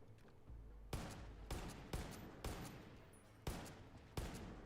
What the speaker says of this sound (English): he's having a go at me with the MG